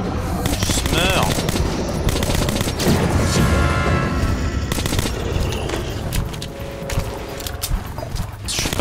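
Gunfire in the first-person shooter Metro Last Light: dense, rapid automatic bursts crackle loudly and continuously for several seconds, with sharp repeated shots and a few louder booms mixed into the din.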